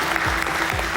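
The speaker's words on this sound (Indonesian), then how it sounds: "Tepuk tangan lagi buat kalian semua" Steady applause from an audience at a property cluster launch event, a dense continuous patter of clapping filling the room throughout.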